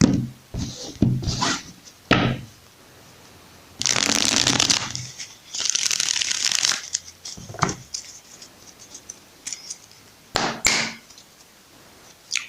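Tarot cards being shuffled in bursts, with riffling rushes and crisp flapping snaps separated by short pauses, close and clear with no talking.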